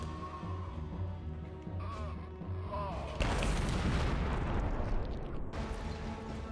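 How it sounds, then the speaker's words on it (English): Rocket fire against a tank in Conflict: Desert Storm, a steady rumble of battle noise broken by a heavy booming blast about halfway through that lingers as a loud, rough roar. "I have to hit that tank with another rocket"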